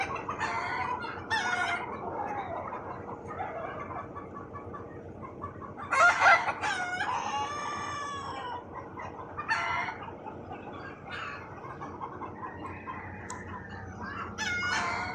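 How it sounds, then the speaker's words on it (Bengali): Many chickens of various kinds gathered in one place in Saudi Arabia. Hens cluck on and off throughout while a rooster crows loudly and nearby partway through, with no talking. "কত সুন্দর কত মুরগি এই জায়গায়"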